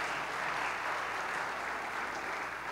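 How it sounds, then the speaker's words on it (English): A church audience applauds steadily at a faith talk, a continuous dense wash of clapping that holds level from start to finish, heard at moderate distance with no voices. "Let's give him another round of applause."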